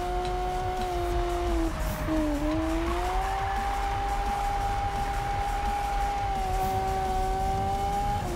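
Lamborghini engine in the Need for Speed racing game, a loud steady whining drone that dips briefly and then climbs and holds high, with tire and road noise underneath throughout.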